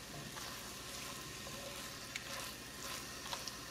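Eggs cooking in a pan on low heat, a soft steady sizzle with faint crackles and a few small pops, quiet and continuous with no talking.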